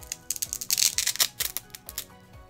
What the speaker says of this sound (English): Cherry MX Blue are the most clickety-clackety.